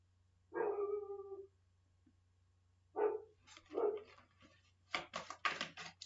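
A pet dog barks in a quiet room, two separate single woofs followed by a quick burst of several sharp barks, close and clear against a faint low hum.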